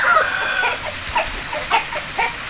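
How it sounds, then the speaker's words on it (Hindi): An Aseel fighting rooster, a seven-time winner, clucks and calls in a short series of bursts, close and fairly loud, with steady background hiss. "इंतहाई अच्छा खूबसूरत असील है। अच्छा असील है तो इसी दफ़ा 7 दफ़ा विनर हो गया ना।"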